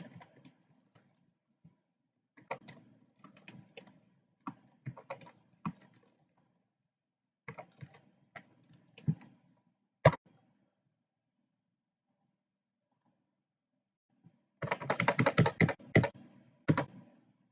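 Typing on a computer keyboard in short bursts of close, dry key clicks separated by pauses, ending in a fast, denser flurry of keystrokes; no talk.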